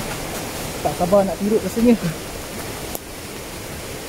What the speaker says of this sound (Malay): Kedengaran air terjun ni sangat kuat.